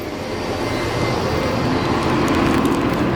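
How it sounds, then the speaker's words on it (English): A loud, steady city bus engine roar, a 6700 series bus, with a broadband rumble that builds slightly as it idles and pulls away nearby. "That 6700 series bus was loud."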